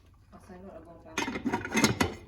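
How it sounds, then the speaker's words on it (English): Metal lid set onto a cooking pot of caramelized pork and eggs, a burst of clanking and rattling contact sounds after a softer stretch of quieter noises, with speech nearby. "You want to put the cover on."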